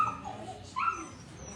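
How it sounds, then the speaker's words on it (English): Local puppies brought to an animal clinic in Tzununa give faint, brief whimpers and a small yip at close range, with light background murmur. "these are the puppies of the local Tamale woman, Maria"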